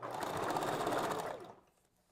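A sewing machine stitching a wig cap runs steadily in a fast, even rhythm up close for about a second and a half, then slows and stops.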